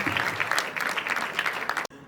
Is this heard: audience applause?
yes